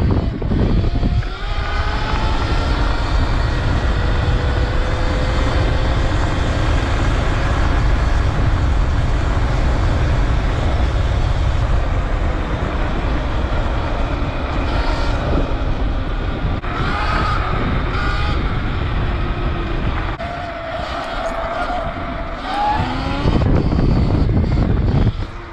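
An electric-converted motocross bike with doubled power pulls away from a standing start on a dirt track, a loud sustained drivetrain whine rising in pitch, with a few shifting tones and rattles near the end.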